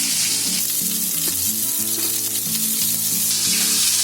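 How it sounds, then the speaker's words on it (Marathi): Onion fries in oil for Marathi misal, a loud dense sizzle that crackles continuously and close up, with a faint low hum beneath and no talk. "आता त्याच्यामध्ये तेल आहे बघा, त्याच्यामध्येच मी ना कांदा भाजते."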